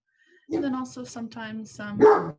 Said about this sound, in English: So sorry for my dogs.